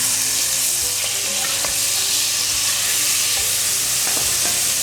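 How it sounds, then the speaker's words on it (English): Garlic frying in melted margarine in a pot on the stove, a loud continuous sizzle with occasional stirring scrapes and clinks, no voices. "I'm adding my garlic."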